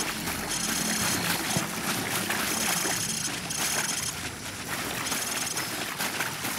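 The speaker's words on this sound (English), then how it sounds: "Vehicle's approaching." A boat approaches in Call of Duty Modern Warfare III, a steady washing engine drone over rushing water that stays loud and even throughout.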